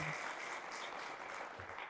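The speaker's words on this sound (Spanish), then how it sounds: "Fuertes aplausos al Rey de Reyes" Steady, fairly faint applause from a congregation in a church during a healing and deliverance service, a continuous wash of clapping without a clear break.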